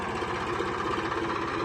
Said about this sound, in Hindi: अब बैक आएगा ट्रैक्टर और फिर देखना आप